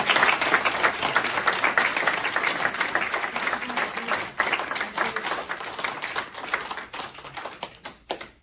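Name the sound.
round of applause for graduates at ceremony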